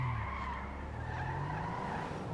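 Tires of a Karin Sultan RS skidding in GTA 5, a continuous loud screech over steady engine roar lasting the whole stretch, with no talk.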